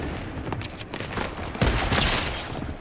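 Rapid gunfire from a sniper rifle in the video game Fortnite, with bursts of shots and booms layered over busy game sounds. The gunfire is loud and close, and it swells near the end.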